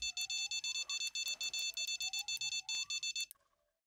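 Rapid, evenly pulsed electronic beeps sound close and loud for about three seconds while a faint whistling tone drifts beneath, then the beeping stops abruptly.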